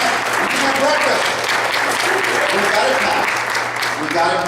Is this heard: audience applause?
yes